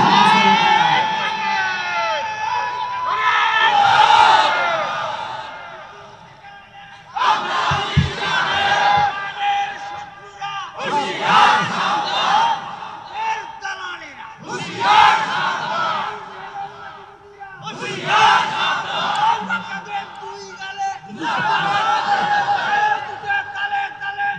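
A large crowd at a religious rally roars takbir in about six long, loud, massed bursts, each separated by a short lull where a leader's voice is heard calling out.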